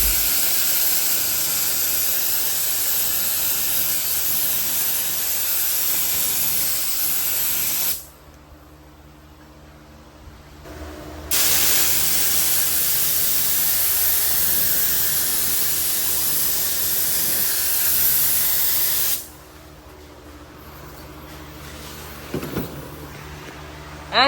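Spray gun applying clear coat onto car headlights, loud close continuous hissing in two long passes separated by a pause, with faint handling clicks near the end, no talking.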